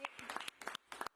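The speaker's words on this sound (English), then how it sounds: "I just want to give a round of applause to Mr." Brief scattered applause at a New York City press briefing: several rapid bursts of clapping from a small group nearby, mixed with faint voices.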